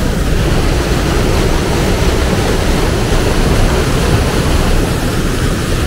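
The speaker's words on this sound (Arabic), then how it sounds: "ينابيع صافية غزيرة جدا في منبع النهر الأزرق" Clear spring water gushing at the source of the Blue River in Travnik, Bosnia, a loud, steady, broad rushing roar that fills the whole stretch without breaks.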